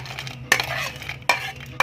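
Dry fruits fried beforehand are stirred into sweet rice kheer in a pot, a spoon scraping and clinking against the metal in three distinct strokes over steady soft background noise.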